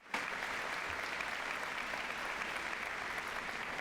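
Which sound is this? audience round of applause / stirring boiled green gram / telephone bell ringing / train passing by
audience round of applause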